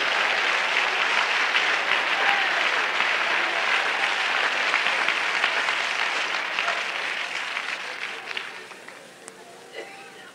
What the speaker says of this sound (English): Let's clap our hands unto the Lord.